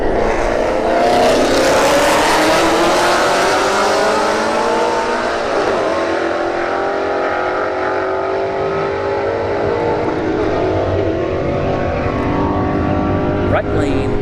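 A Ford Mustang S550 and an S197 drag race at Bradenton Motorsports Park's Street Heat event, with a loud, roaring burst of accelerating engines that sweeps up in pitch and slowly recedes into the distance.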